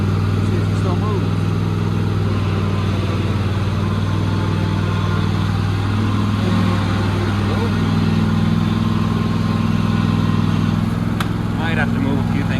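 A John Deere lawn mower engine runs at a steady idle, a loud, continuous mid-pitched drone that holds throughout without stopping.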